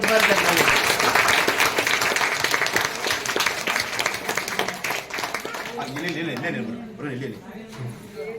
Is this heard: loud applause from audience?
yes